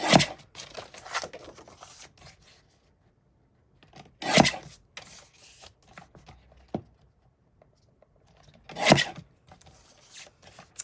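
Scissors trimming the yellow border off a recycled paper greeting card, heard as a few close, crisp cutting and rasping bursts separated by quiet gaps, with no talking.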